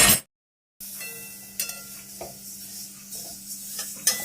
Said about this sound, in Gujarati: બીજા તલને આપણે શેકી લેશું